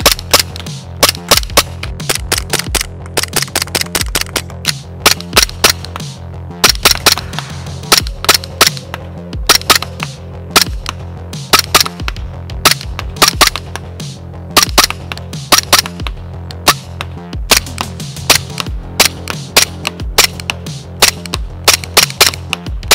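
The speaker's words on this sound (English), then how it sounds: "Today we are doing outdoor box shooting review of Glock 17 Gen 5." Umarex Glock 17 Gen 5 replica pistol fired outdoors, sharp cracking shots in irregular bursts and quick strings, loud and close, repeated throughout with no talk.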